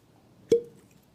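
A single sharp cork pop from a bottled-in-bond bourbon bottle, brief and close, in an otherwise quiet room.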